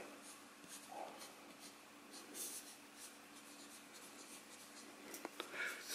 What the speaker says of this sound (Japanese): すごくぬるぬるとスラスラという感じで書くことができます